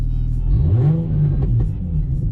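A drift car's engine idles and revs up loudly up close, its rumbling note rising and falling in a couple of steady swells with no talking over it.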